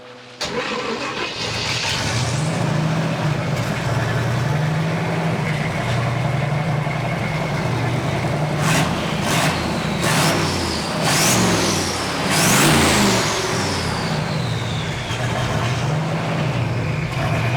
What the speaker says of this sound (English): go ahead and crank it up, see if it'll start